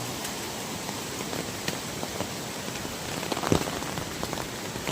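Heavy monsoon rain pours down near a stream, a loud, unbroken hiss of dense drops with sharper close spatters and a single brief knock, with no talk.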